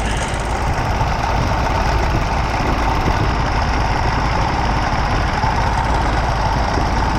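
A diesel engine idling steadily after an idle adjustment on a 484 fuel system, at about 700 rpm: a loud, continuous low rumble with an even knocking rhythm and no voices.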